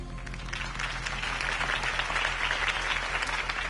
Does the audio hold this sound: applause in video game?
yes